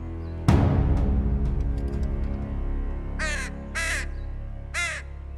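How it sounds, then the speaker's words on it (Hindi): A crow caws three times in short harsh bursts, close and loud, following a deep resonant bell-like strike that rings out at the start. "राजन, मेरा कौवा कह रहा है"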